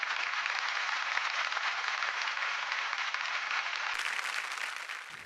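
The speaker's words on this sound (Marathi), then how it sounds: "जोरदार टाळ्या त्यांच्यासाठी." A studio audience at a Marathi television show applauds: sustained, dense clapping that holds steady throughout and begins to fade at the very end.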